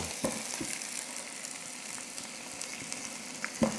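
Chopped onions and garlic sizzle steadily in a pan for a pork chop steak dish, a soft continuous crackle with occasional sharper pops and light stirring clicks.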